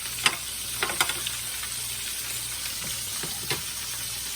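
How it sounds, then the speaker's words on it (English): Green beans frying in a pan give off a steady, soft sizzle, with a few sharper crackles and pops scattered throughout and no voices. "Now I just put the green beans in the frying pan."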